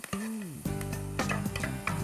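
A scallion pancake with egg fries in a pan over low heat, a steady, fairly soft sizzle broken by short bursts of stirring and scraping.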